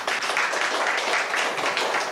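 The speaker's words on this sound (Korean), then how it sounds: "박수 한번 주겠습니다" A church congregation claps together, a dense, even wash of applause held for about two seconds with no break.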